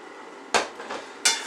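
Scraping and clattering of a utensil against a pan, two sharp strokes with a softer one between, over a low background hiss.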